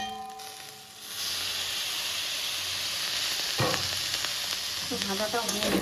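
Food frying in a pan, with a steady close sizzle and hiss running throughout, plus a few clinks and scrapes of stirring near the end.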